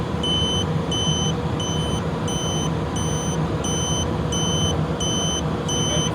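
Repeated short electronic beeps from a battery-powered Reed continuity tester checking a reed switch, a regular series of bright tones over a constant low hum of background noise.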